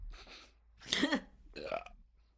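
A wet, gurgling burp after a swig of whiskey, one drawn-out belch breaking into a second shorter one, close and fairly quiet, with casual voices around it.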